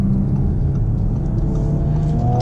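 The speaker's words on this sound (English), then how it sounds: "So we're going to downshift into second gear" A 2018 Audi RS5 with a 2.9L engine and Tiptronic Quattro automatic accelerates hard after a downshift into second gear, giving a loud, steady engine roar and rumble from inside the car that rises in pitch at the end.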